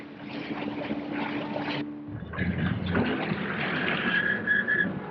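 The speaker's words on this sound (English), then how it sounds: "rigid raiders, which are highly maneuverable and can travel at more than 30 knots, reach ahead to secure the flanks" Royal Marines rigid raider boats, highly maneuverable and capable of over 30 knots, roar past at speed on the water, a loud sustained engine drone with a brief dip and a whining, whistling tone, in a 1980 military film.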